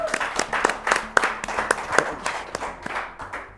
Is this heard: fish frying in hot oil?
no